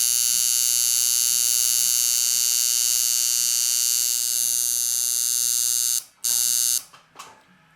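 A liner tattoo machine runs alone as a steady, loud electric buzz with a constant hum, then cuts out and briefly restarts in short bursts near the end.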